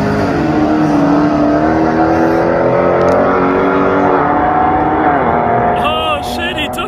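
Street racing cars, one a Dodge Hellcat, roar as they accelerate hard at night, a loud sustained engine drone with rising harmonics and a pitch sweep near the end, with people talking over it.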